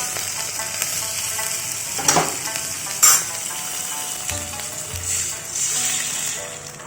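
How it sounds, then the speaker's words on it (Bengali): Onion and tomato fry in a pan with a steady, even sizzle that holds close and loud throughout, broken by a few sharp clinks and stirring scrapes, and no voices are heard over it. "হালকা একটু পেঁয়াজটা পাশে একটু ভেজে নিচ্ছি"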